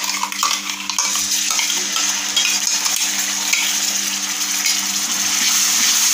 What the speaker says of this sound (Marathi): यामध्ये आलं, लसूण आणि हिरवी मिरची, जिरं, शोप हे मी दळून घेतलेलं आहे, ते आपण तेलामध्ये आता परतवून घेत आहोत।